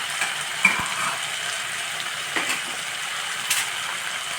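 Spice powder of roasted coriander, fenugreek and chilli being stirred into a tamarind rice mixture frying in a pan, giving a steady close sizzle with a few soft scraping stirs and light clinks, no talk.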